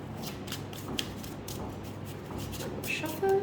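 Tarot cards being shuffled by hand make a soft, continuous papery rustle with light riffling flicks, steady and fairly quiet throughout.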